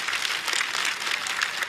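Studio audience applause at a stand-up comedy show, a dense steady wash of clapping hands that holds evenly for the whole stretch with no voices over it.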